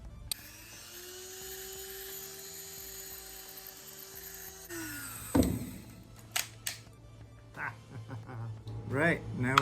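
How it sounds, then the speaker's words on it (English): A power drill whines steadily, then bites into a melted, damaged bowl for a costume build, followed by sharper bursts of drilling and handling clatter, with a voice speaking over parts of it. "drill a hole through this messed up bowl"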